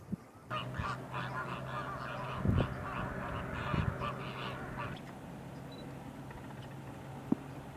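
Flamingos in Cuba honking in a dense, overlapping flock chorus, goose-like calls repeating steadily at moderate distance, with a couple of louder close honks standing out before the calls thin and fade.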